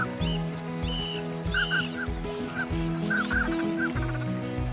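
Mandarin ducks and other waterfowl call in the Siberian wild, a dense chorus of honking, clucking calls with repeated short squeaky notes over a steady background, no voices.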